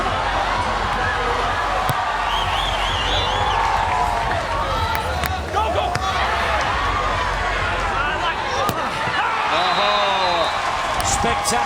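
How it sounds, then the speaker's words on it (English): A crowd cheers and roars steadily at a beach volleyball quarterfinal between Canada and Poland, a loud, continuous wash of voices with whistles and claps on top, near and unbroken. "Crowd are absolutely loving it, and have every reason to do so"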